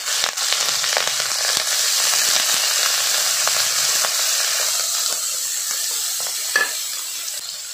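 Chopped capsicum frying in hot oil with mustard seeds and cumin, a steady bright sizzle with occasional crackles and stirring scrapes, close and without talk.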